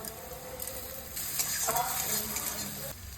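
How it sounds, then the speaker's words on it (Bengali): Onion frying with crushed garlic and ginger in hot oil, a faint, steady sizzle with light stirring scrapes and a few soft utensil clinks, with no speech. "এই পেঁয়াজটা হালকা করে ভেজে নিলাম। এর মধ্যে থেতো করে রাখা রসুন আর আদা দিয়ে দেবো।"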